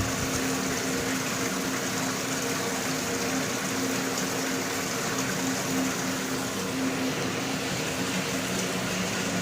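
A motor pump on a double-membrane water refilling station runs during backwash, a steady close whirring hum mixed with the constant rush of flowing water and no pauses.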